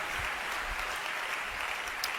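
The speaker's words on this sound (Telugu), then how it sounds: "చప్పట్లు కొట్టి ప్రభువును అనుమయంపరచండి" A church congregation claps steadily in praise during a sermon, a dense, continuous patter of many hands close by with no voice over it.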